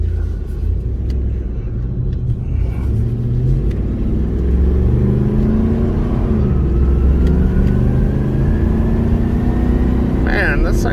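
A lifted 1998 Ford F-150 regular cab short bed 4x4 rumbles steadily while being driven, its engine drone loud and close and rising slightly as it picks up speed, with someone talking over it.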